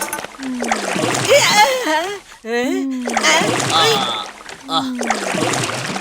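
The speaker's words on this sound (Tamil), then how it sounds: "அப்பாடா, எப்படியோ தண்ணில விழுந்தாச்சு." A splash of a cartoon character falling into water breaks through animated voices, which talk and exclaim before and after it.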